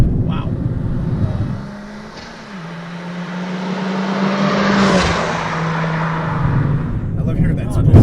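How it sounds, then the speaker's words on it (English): A modified 2013 Mini John Cooper Works GP pulls hard with a steady engine drone and a rising turbo whistle and whoosh, close inside the cabin, briefly easing off, with a voice speaking over it. "you definitely get more turbo noise"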